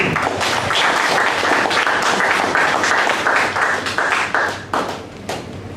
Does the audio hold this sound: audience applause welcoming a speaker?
yes